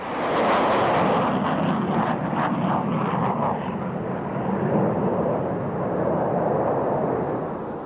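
Vought F-8 Crusader jet fighter flying, a loud, broad roaring jet rumble that stays heavy throughout and eases slightly toward the end.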